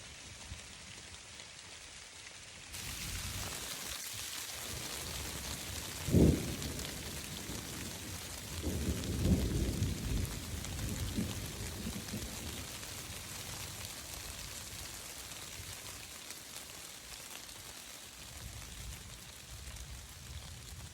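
Rain falls steadily outdoors in the woods during an archery bear hunt, a soft continuous patter with a few brief louder bumps, no talk.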